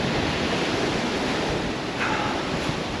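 Strong wind buffets the shore during a sea-fishing competition on the Welsh coast, a loud, unbroken roaring rush of noise that stays constant throughout, with no voices.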